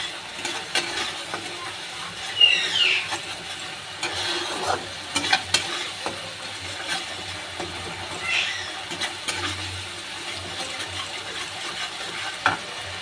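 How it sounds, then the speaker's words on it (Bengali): Spiced masala with yogurt and a little coriander leaf fries in a pan for a fish curry, with steady soft sizzling broken by irregular scraping stirs of a spatula over about thirteen seconds, with no voices. "কষতে কষতে দই থেকে তেলটা বেরিয়ে যাবে।"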